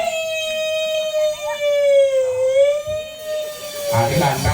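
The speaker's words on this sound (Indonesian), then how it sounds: "Ambulan." An ambulance siren at an intersection in Banjarwani, Bali, wails in one steady, slowly bending tone that swells and fades as it passes, with faint street noise and a bit of background voice near the end.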